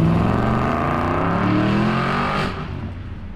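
An Aston Martin Vantage's 4.7-liter V8 engine roars at high, steady revs with a rich, rising note, then eases and drops away in the last second.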